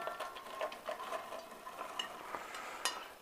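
Pecans being stirred through a boiling honey and water mixture in a pan, a steady bubbling sizzle with soft scraping and occasional light clinks of a utensil against the pot.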